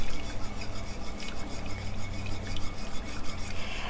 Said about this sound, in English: you want to add this slowly, mixing in